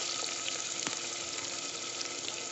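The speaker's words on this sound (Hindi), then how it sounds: "और प्याज को हाई फ्लेम पर 1 मिनट भून लूँगी अच्छे से" Sliced onions frying over high flame in a pan for aloo matar sabzi, a steady close sizzle with faint crackles and light stirring clicks.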